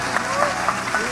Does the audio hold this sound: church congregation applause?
yes